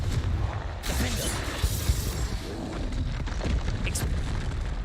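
A Confringo fire spell detonating in Hogwarts Legacy, a dense, sustained roar of booming blasts and crackling debris that fills the whole stretch at steady loudness, with a sharper burst near the end.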